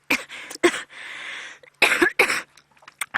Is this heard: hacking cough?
yes